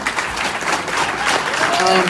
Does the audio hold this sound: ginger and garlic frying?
no